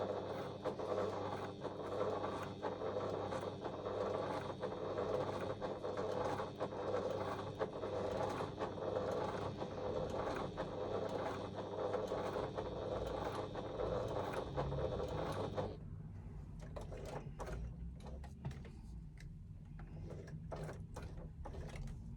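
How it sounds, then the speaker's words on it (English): A sewing machine top stitches close to the edge around a small fabric pouch, running in a loud steady mechanical whir for about fifteen seconds, then stopping abruptly and leaving scattered soft clicks and handling noises. "I'm going to top stitch around the outside of this using 1/8 of an inch seam allowance"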